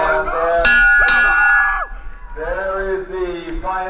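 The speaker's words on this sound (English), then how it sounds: "there is the final bell." The final bell rings at the end of a polo match at the Singapore Open, a loud bright clang that sustains and decays while a commentator talks and the crowd cheers.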